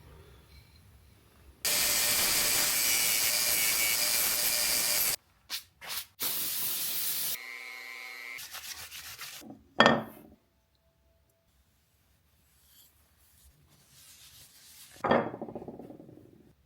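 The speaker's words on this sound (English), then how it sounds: "I'm just gonna take this to the big belt sander" A big belt sander grinds a wooden spoon in bursts: a long, loud, steady hiss of sanding, then shorter bursts, with clunks and quiet gaps between.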